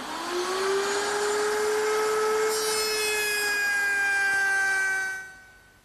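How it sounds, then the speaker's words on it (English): A router table fitted with a 1/4 inch round-over bit shapes a drawer front edge, one continuous rising whine that holds steady and loud up close, grows brighter partway through, then drops away abruptly at the end. "I'll use my router table with a 1/4 inch rounding over bit"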